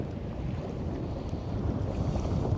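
Strong wind roars steadily across a rocky shoreline in a dense, low rumble against the microphone, growing slightly stronger, with water faintly lapping beneath.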